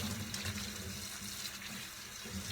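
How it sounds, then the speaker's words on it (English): Tap water runs steadily from a faucet over a soaked vintage USA basketball snapback hat being rinsed after soaking in soapy water, a close, continuous splashing stream. "Give it a quick rinse."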